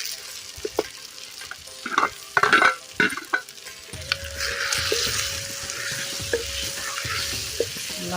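Tomatoes sauté in a pan, irregular loud stirring scrapes and clatter early on giving way to a steady, close sizzle with occasional spoon knocks.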